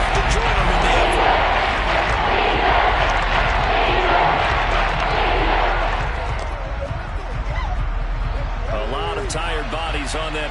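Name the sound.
stadium crowd roaring at NFL football game, Cardinals at Seahawks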